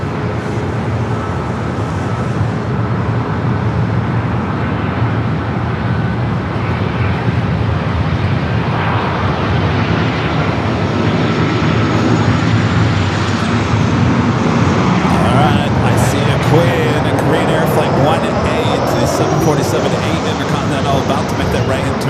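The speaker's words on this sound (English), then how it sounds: "Flight 22, the second flight of the day, coming up from Paris, touching down there on the 25 left." A passenger jet arriving from Paris touches down on runway 25 left at LAX, heard as a loud, steady broadband engine roar that rises and holds through the clip, with airport and road traffic noise beneath it.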